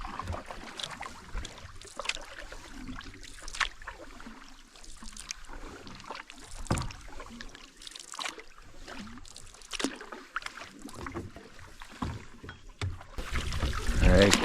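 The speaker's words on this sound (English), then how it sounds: "We are paddling across." A canoe is paddled across a foggy northern lake in the Boundary Waters, with soft rhythmic paddle strokes and water swishing close by, while a person speaks.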